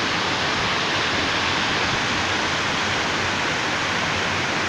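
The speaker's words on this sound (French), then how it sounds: "une dernière fois la cascade" A mountain waterfall in the Chartreuse massif roars with a steady, dense rush of falling water, loud and unbroken throughout.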